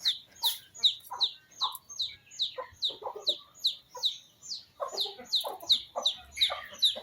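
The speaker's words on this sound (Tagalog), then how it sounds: "Pakain muna tayo sa mga alaga natin, mga manok." Native chickens at feeding time in a rural yard cluck and chirp busily, a dense stream of short, close calls with a few louder squawks, and no talking over them.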